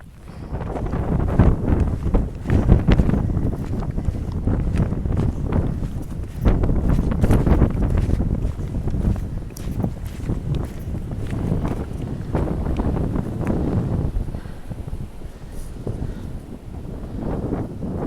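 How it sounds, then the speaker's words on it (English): Heavy wind rushes and buffets against the microphone in continuous gusts on an Appalachian Trail morning climb, loud and close, with no voices. "Another windy morning."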